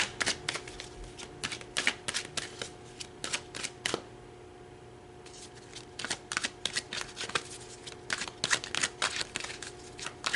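Tarot cards shuffled and pulled in a quick, uneven run of crisp riffling flicks and snaps, close up and fairly quiet, with a short lull midway and no talking.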